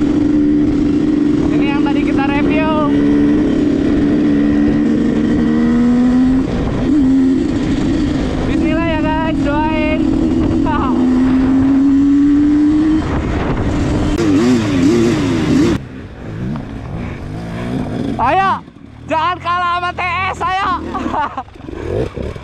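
A 2017 KTM 300 two-stroke dirt motorcycle engine revs and drones steadily with rising and falling pitch, accompanied by bursts of whiny harmonics, then cuts lower near the end amid chatter.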